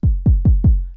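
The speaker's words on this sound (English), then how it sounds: "So for the kick, I used the Mandrake from Maelstrom," Four deep, boomy kick drum hits from a Maelstrom synthesizer, unprocessed, with a falling pitch sweep, evenly spaced and played alone, each decaying into a low rumble.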